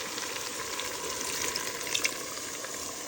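Continuous bright sizzling and crackling as water is poured into a hot pan for chicken biryani, steady throughout with a faint watery hiss, no voices.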